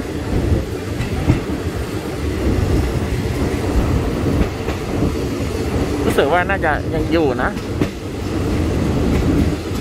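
Ordinary train 277 from Bangkok to Kabin Buri rumbles along with a continuous low roar and rail clatter from inside the carriage, and a person speaks briefly partway through.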